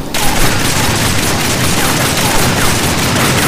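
Rapid pistol fire in the video game Darksiders, a dense, loud continuous barrage of shots with booming low end, steady throughout and with no talk over it.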